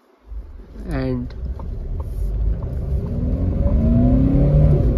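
A 2024 Hyundai Venue with a 1.5 litre diesel engine accelerates in first gear, its rumbling note climbing steadily in pitch as it pulls away, heard close and growing louder.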